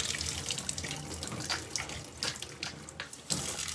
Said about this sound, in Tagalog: Tubig sa arigasyon.